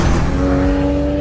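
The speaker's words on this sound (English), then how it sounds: "the sports car drives through the saltwater tank" A Porsche sports car drives through a saltwater tank during functionality testing at Weissach: a loud, close engine roar with a steady tonal drone and rushing spray, no voices.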